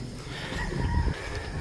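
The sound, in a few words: pit fighting rooster crowing in the background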